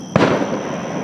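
A lone firework explodes with a sudden booming crack over a midsummer lake beach party at Quaker Lake, followed by a lingering rolling echo that decays beneath constant outdoor hiss.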